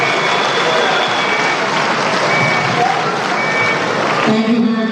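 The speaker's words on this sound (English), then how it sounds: "Let's keep the applause going." Steady dense applause from an audience at a regional stakeholder forum, continuous and fairly loud throughout, with a tonal beeping or hum entering near the end.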